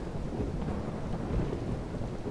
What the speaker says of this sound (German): Gewitter